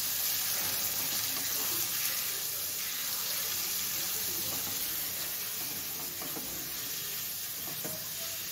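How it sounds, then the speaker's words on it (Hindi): Tap water runs while meat is washed in a sink, a steady close hiss and splash that continues unbroken, with faint handling sounds underneath and no speech. "तो ये आपने अच्छी तरह वॉश करके रखना है"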